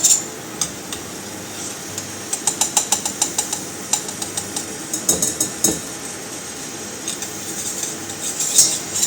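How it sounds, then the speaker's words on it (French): Butter cut into small pieces being stirred in a pan to melt it for mac and cheese. Sharp metallic clicks and taps of the utensil against the pan come in irregular bursts over a faint background hiss, with no talking. "Je remue un peu pour que ça fonde tout."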